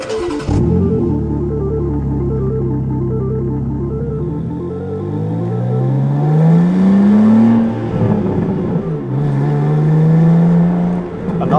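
A BMW M2 G87 with a manual gearbox drives past in a loud, steady engine drone that climbs as it revs through the gears, with rising pitch sweeps and a brief dip before accelerating again. No one speaks over it.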